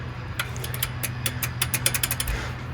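Power washer engine running with a broken governor, a close, steady mechanical drone with an irregular train of sharp clattering knocks and rattles, alone with no talk.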